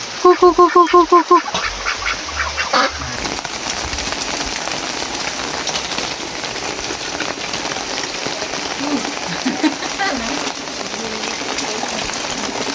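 Several loud, nasal duck quacks repeat rapidly at the start, then give way to a steady wash of rain with a few quieter quacks scattered later.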